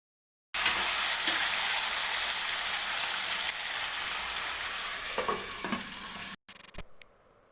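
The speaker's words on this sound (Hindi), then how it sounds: "वो जो फ़िश था ना एक साइड उसका फ्राई हो चुका है, तो अभी उसको पलट रही है।" Fish fries in hot oil in a kadhai, giving a steady, dense sizzle and crackle as it is turned over. Near the end the frying cuts off and a few brief clatters follow, with no talk.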